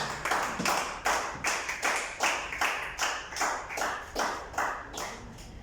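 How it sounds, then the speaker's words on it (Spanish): A church congregation claps in rhythmic unison, about two beats per second, a steady series of sharp synchronized claps with no talking. "Démosle un aplauso bien fuerte a Dios."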